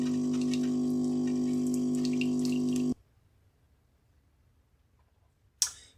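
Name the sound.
coffee machine brewing coffee in yacht pantry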